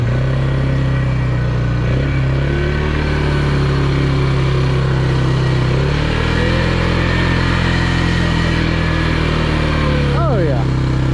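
Polaris off-road vehicle in four-wheel drive pushing through mud, its engine droning loud and steady at close range, with a brief rising rev near the end.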